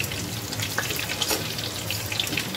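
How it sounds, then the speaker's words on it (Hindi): Chicken for a steam roast biryani fries in a pan with a loud, steady, close sizzle throughout, crackling with small bursts of spattering and occasional clinks, and no voices. "इसके टेस्ट को अच्छा करने के लिए चलो फ्राई कर रहे हैं"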